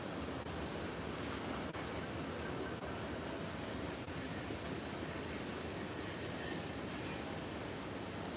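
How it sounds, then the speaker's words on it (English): A long train rolls past, steady broadband rumble and rattle of wagons holding constant for the whole stretch, fairly distant and faint, with no talk. "That train is super long."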